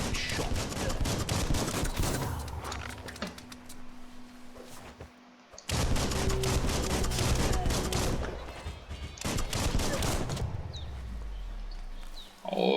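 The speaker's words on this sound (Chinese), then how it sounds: "射击" Bursts of rapid gunfire in the video game Biomutant crackle in dense volleys, broken by short lulls, with game music and effects underneath.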